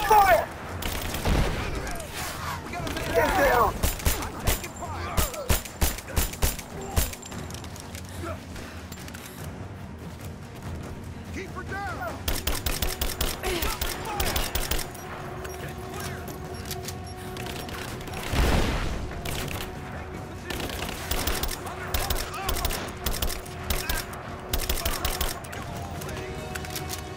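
Gunfire in a firefight in the Rise of the Tomb Raider video game: rapid bursts and single shots crack repeatedly at varying distances, with explosive booms and game voices shouting in between.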